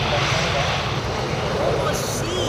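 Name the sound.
Air Dolomiti Embraer E190 landing from Frankfurt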